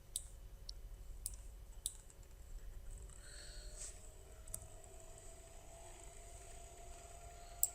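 Computer mouse clicking while drafting in CAD software: a few sharp, isolated clicks spaced irregularly over a quiet room hum, faint and close.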